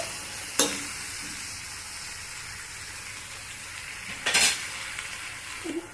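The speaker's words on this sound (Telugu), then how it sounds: "మధ్యలో కలుపుతూ ఉండండి. కలుపుకోకుంటేనే మాడిపోతుంది." Pumpkin curry simmering and sizzling in a pan at home, a low continuous frying hiss broken by two short scraping bursts of a spoon stirring against the pan, with a faint clink near the end.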